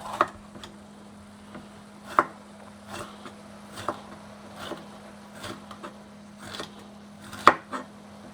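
Samosa filling ingredients get chopped on a board in a Ugandan street kitchen, producing sharp, irregular knife knocks spaced about a second apart over a steady low hum, with no talking.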